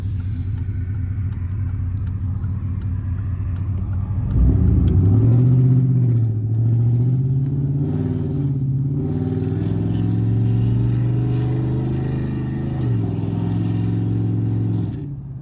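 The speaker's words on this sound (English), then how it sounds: "I'll wait for that car to pass by." A car passes along the road outside while a 2003 Chevy Silverado with a 6.0L V8 is being worked on, its engine rumble swelling loudly near the middle and then holding steady.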